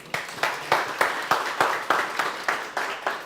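An audience at a live podcast and panel discussion event claps together in a steady, evenly spaced rhythm, about three loud claps a second, filling the room with no talking.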